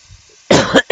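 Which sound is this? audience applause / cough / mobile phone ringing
cough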